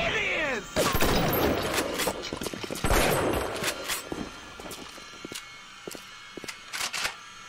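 Shotgun blasts in the video game Bioshock, several sharp booming shots spread over a few seconds, the first ones heavier, then smaller clicks and impacts trailing off at moderate level.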